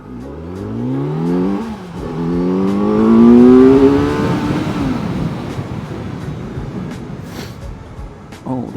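A Kawasaki Z900 motorcycle accelerates hard through the gears, its engine rising in pitch, dropping briefly at each shift and climbing again, loud and close, before settling into heavy wind roar.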